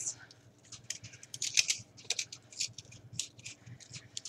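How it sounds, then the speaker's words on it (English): Scissors snipping a piece of craft material for a Halloween crown, a quick series of crisp close clicks and cuts with light handling noise. "Now I'm going to cut off another piece."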